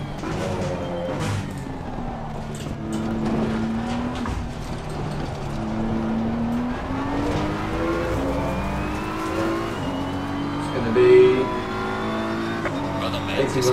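Race car engine in Assetto Corsa Competizione on PS5, revving steadily and rising and falling through gear changes, with a brief tire squeal near the end, heard under continuous talk throughout.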